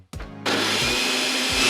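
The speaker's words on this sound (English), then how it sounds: "I've even got a remote for my blender." A kitchen blender kicks on abruptly after a short click and runs at full power, a loud, continuous, close whirring grind.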